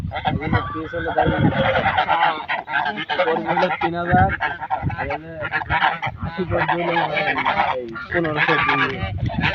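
Loud, raucous honking and quacking from many ducks close by, nearly continuous, with a few brief spoken words mixed in.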